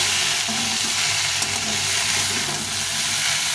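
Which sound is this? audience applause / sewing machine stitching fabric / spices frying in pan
spices frying in pan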